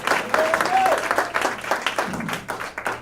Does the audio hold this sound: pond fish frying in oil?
no